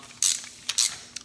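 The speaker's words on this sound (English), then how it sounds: "I'm just going to round up to 15 for good measure, and I am going to torque them all" A torque wrench ratchets on exhaust manifold bolts of a BMW N54 engine, three short crisp metallic clicks close up in quick succession, with no talk.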